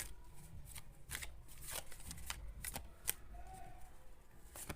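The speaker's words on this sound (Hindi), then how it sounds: "कार्ड्स बहुत ज़्यादा हाथ से जंप कर रहे हैं।" A deck of tarot cards is shuffled by hand in a quiet room, giving a series of soft, irregular riffling flutters and slaps close to the microphone, with faint room tone between them.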